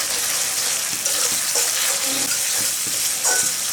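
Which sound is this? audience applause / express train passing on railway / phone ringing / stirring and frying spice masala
stirring and frying spice masala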